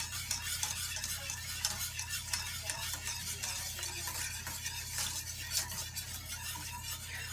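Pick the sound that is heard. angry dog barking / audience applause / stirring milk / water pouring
stirring milk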